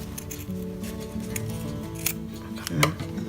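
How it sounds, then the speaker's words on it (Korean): Scissors trim the excess end of a zipper sewn into a fabric cushion cover, making a few close, crisp snipping and slicing sounds with no talk. "여기 남는 이렇게 꼬다리 지퍼는 잘라줄게요."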